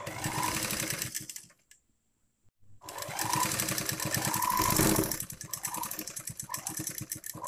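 A sewing machine stitches the seam of a pillow cover in rapid, evenly spaced clatter, running in close bursts with a short stop before it starts again.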